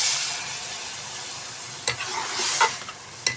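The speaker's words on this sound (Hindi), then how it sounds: "जो मैंने इसकी चनों की यखनी रखी हुई थी वो इसके अंदर थोड़ी थोड़ी ऐड करेंगे" Chickpea stock is splashed a little at a time into chana masala frying in a pan, giving a soft steady sizzle with a few brief louder spits and hisses as the liquid hits the hot oil.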